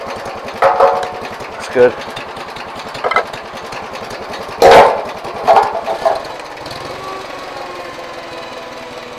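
An IH Farmall 140 tractor engine runs close by with a steady, even idle pulse throughout, broken by a few brief clanks and knocks; someone says a word over it.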